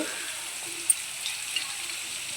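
Onions and mustard seeds sauté in hot oil, a soft even sizzle with a small clink near the start, faint and close, no talking.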